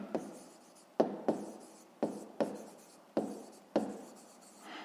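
A pen writes out a fifth-grade math answer in a steady series of short, close scratching strokes, about seven or eight distinct bursts with brief pauses between, quiet and alone without speech.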